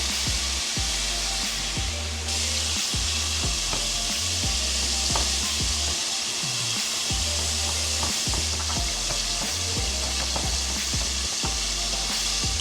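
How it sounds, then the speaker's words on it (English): Butter cubes and fresh basil with tomatoes frying in a pan, a loud continuous close sizzle with steady crackle and occasional stirring knocks throughout. "I'm adding some cubes of butter,"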